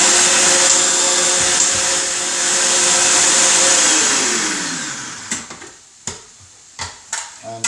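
Blender spinning chilli paste smooth, a loud steady whirring whine that winds down after about five seconds, followed by several sharp knocks and clatters of the jug.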